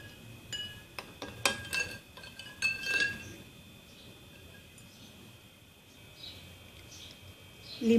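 A spoon clinks against a glass while stirring masala nimbu pani with ice cubes and water, a quick cluster of bright taps early on, then quiet.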